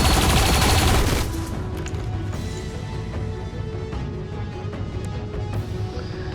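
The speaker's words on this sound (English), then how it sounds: "We're just in a straight up gunfight right now, guys." Gunfight in the XCOM: Chimera Squad video game, a loud burst of rapid gunfire at the start giving way to scattered shots and impacts over a steady game bed.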